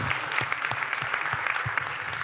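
Applause for a school group at an inclusive education event, a crowd clapping steadily with individual claps standing out in a brisk, even patter throughout.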